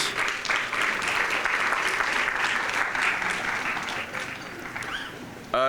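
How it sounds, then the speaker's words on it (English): An audience gives the builders a round of applause at the opening of a new housing building, dense sustained clapping from a sizeable crowd that fades slightly toward the end, with faint voices underneath. "Let's give a round of applause to the builders."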